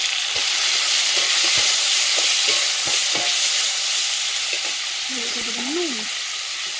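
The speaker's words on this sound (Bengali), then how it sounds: "টমেটোগুলো কড়াই দেওয়া হয়ে গেছে" Chopped tomatoes frying in a wok on a stove for tomato chutney, giving a loud continuous hissing sizzle with occasional stirring scrapes, and a brief faint voice near the end.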